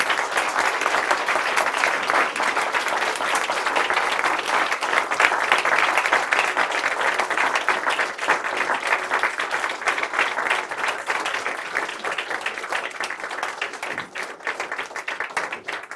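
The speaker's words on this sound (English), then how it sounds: "a big round of applause for them, please" Sustained audience applause at a Royal College of Surgeons diplomates ceremony, dense steady clapping from a large crowd of family and friends filling the hall for the full stretch, fading slightly near the end.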